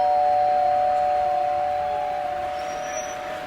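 Steady electronic doorbell chime tones ring out over a background hum, the pitch holding and fading slightly toward the end.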